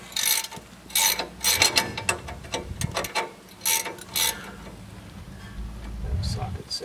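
A ratchet socket wrench clicks in quick bursts on the front suspension of a 2003-or-later Chevy Express 3500 van during a lift install, close and uneven, with someone talking over parts of it.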